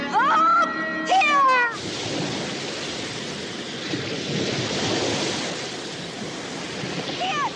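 Ocean waves roar and crash as a sound effect in an audio drama, a broad, steady wash of surf that follows a short burst of tonal sound.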